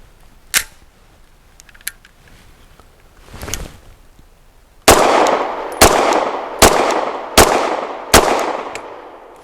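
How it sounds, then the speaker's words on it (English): A double stack 1911 pistol fires five quick, loud shots in an even rhythm at an outdoor range, preceded by a few faint clicks and handling noises. "Absolutely cold out of the box, 5 shots, trying to group, but also pushing the speed on that group"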